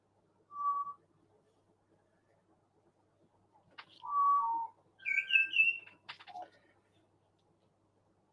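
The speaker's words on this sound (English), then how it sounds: "The birds are like, hello, don't forget me." Small birds singing outdoors, short clear whistled phrases and chirps spaced out over quiet, faint and moderately distant, with no talk over them.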